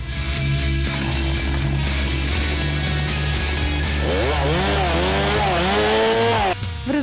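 A STIHL MS 261 C chainsaw engine roars loudly and steadily, then revs up and down in rising and falling waves before cutting off near the end.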